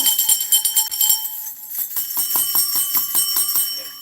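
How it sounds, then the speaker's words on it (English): Small hand bells ringing in a quick series of bright, jingling strikes, fairly close and lively, with no talk over them. "I got some bells."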